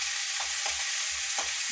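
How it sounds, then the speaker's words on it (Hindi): Onions frying in a pan for kadhi, a steady loud sizzle with several soft stirring scrapes and no voices. "प्याज भूनोगे तो ब्राउन हो गया बहुत।"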